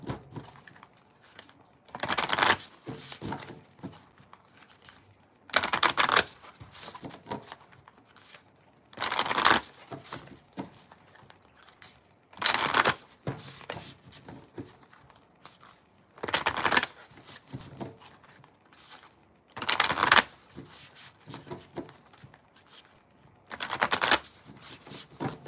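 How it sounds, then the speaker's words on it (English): A deck of cards is shuffled repeatedly in crisp riffling bursts, about seven of them at regular intervals, with quiet rustling handling sounds in between. "So yeah, let's get the shuffle."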